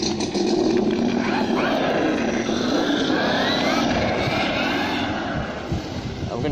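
A Losi Baja Rey RC truck running on a 3S battery on pavement gives a loud, continuous high-pitched motor whine with rising and falling revs, steady and close throughout.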